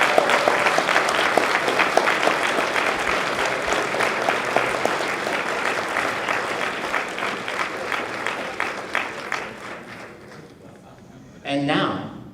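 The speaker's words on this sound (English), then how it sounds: "Let's give a big round of applause for all of the candidates." A crowd at a Toastmasters district table topics contest claps for the candidates in sustained, dense applause that slowly thins out over about ten seconds, followed by a brief pause and a short burst of sound at the end.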